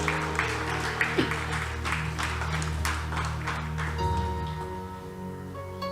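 Congregation clapping in a church during a Sunday service, a steady, dense patter of many hands filling the room for about four seconds before fading under sustained organ or keyboard tones.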